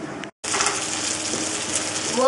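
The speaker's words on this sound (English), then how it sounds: "stick it in the pan" Breaded schnitzel sizzles in a hot pan, a steady loud frying hiss right after a brief silence, close and continuous.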